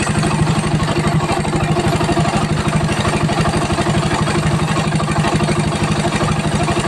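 A motorcycle with a 32mm flat-slide carburetor idles nearby in an even, quick, low-pitched pulse, mellow and fairly quiet, with no voices.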